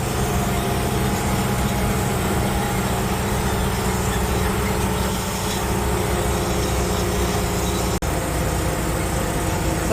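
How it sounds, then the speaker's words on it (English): A noisy Clifford truck towing a mill truck drives at speed, its loud engine droning steadily with constant road rumble and cab rattle, one brief sharp knock near the end. "here's what it's like to be driving the Clifford truck. It's noisy, it's loud, it's hot, it shakes, rattles, and squeaks a lot"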